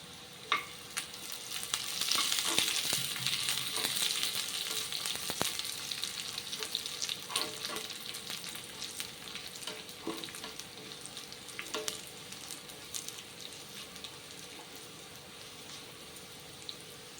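Onions and curry leaves frying in oil for sambar, a sustained close sizzle with frequent sharp crackles and spatters, loudest early then settling to a steadier hiss, no speech.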